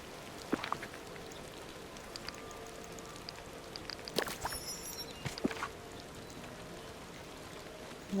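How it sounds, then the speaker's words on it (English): Rain falls in the Disney Dreamlight Valley video game, a faint steady patter of drops with a few sharper splashes and clicks scattered through it. "Okay, so it's finally raining."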